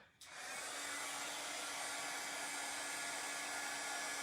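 A hair dryer blows on a pasted craft project, switching on abruptly and then holding a steady, close, whooshing roar with no speech.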